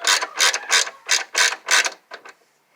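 A ratchet clicks in repeated bursts as it tightens the drive belt on a 1990s Toyota A/C compressor, about seven close, loud pulls in a steady rhythm, the last two shorter and weaker.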